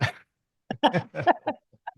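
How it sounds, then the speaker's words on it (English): A Great Pyrenees puppy gives several short whimpers and yips close by, in quick uneven bursts separated by brief silences. "is that a puppy? That is a puppy."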